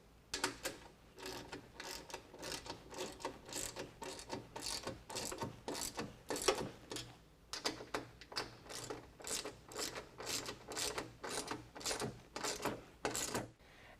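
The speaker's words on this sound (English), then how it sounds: "we can use a 13mm to tighten the boards to the brackets" A 13mm ratchet tightens running board bolts onto brackets while fitting stainless curved nerf bars to a 2009-2018 Ram 1500, giving rapid clicking bursts in a steady back-and-forth rhythm with short pauses, close and clear.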